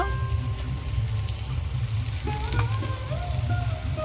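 Ginger paste goes into hot oil while frying, producing a steady, close crackling sizzle with spitting pops and a few faint clinks from a utensil.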